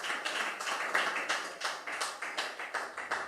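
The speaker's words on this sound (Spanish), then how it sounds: "dar una ofrenda de aplausos al Señor" A church congregation claps in unison, a steady rhythmic beat of many hands at a moderate pace, evenly spaced and moderately loud with no voices over it.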